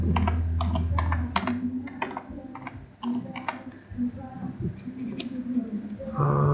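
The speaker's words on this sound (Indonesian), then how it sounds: "ketikkan ms config" A computer keyboard clatters with quick, close keystrokes as "msconfig" is typed, irregular bursts of clicks running for several seconds.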